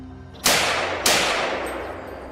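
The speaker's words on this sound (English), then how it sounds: "He instantly pulled the trigger, firing a single shot, and the beast collapsed onto the grass." Two sharp gunshots from a hunter's gun fired at a charging wild boar in grassy bushland, each a loud crack followed by a long decaying echo, about half a second apart.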